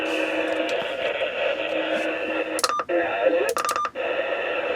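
Steady CB radio static hiss through a Workman Bandit NF-40 noise filter in a car, a constant noise floor broken by a few sharp crackling bursts.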